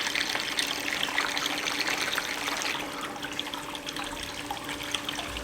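Water rushes steadily through a gold sluice box with a big drop riffle at its inlet, a continuous close hiss and splash of flowing water that softens slightly partway through.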